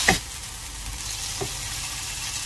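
Curry paste for a Thai-style chicken and mango curry stir-fried in oil over medium heat, giving a steady close sizzle with a sharp clatter at the start and a light knock midway.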